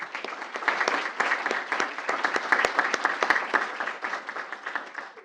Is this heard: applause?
yes